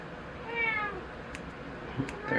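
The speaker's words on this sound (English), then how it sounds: "There's the kitties." Cats meow faintly indoors, a drawn-out meow followed by a couple of short softer calls, quiet against a low background with no talking.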